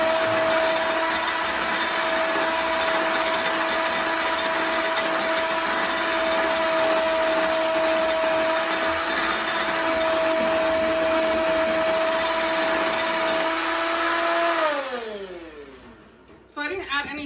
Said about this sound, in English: I'm adding the rest of the melted chocolate. And then we're gonna mix.